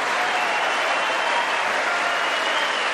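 Members of Congress applaud after a speech, a loud unbroken wall of clapping from a large crowd that stays even throughout.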